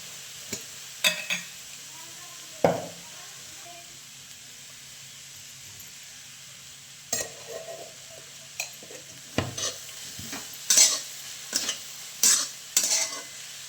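Chili powder being stirred into a thin vegetable curry in a pan, a soft steady hiss underneath with sporadic scraping and clinking spoon strokes that come more often toward the end.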